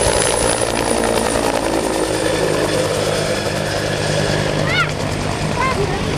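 A military executive transport helicopter with a white top and twin gas turbine engines departs at an airshow, giving a loud steady turbine whine and rotor roar, while someone talks over a loudspeaker.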